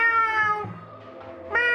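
A person mimics a cat's meow while playing Gato Roboto: one long, wavering meow fades, then a second loud, close meow starts near the end.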